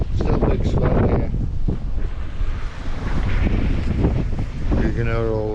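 Heavy wind buffets the microphone while a sailboat rides a big sea swell on the approach to Dun Laoghaire, with a constant loud roar of wind and rushing water throughout and a brief tonal whine near the end.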